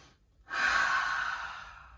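A single deep inhale during a standing yoga session for the feet, rising suddenly after a short silence into a soft, airy breath that stays steady and close, then slowly tapers off.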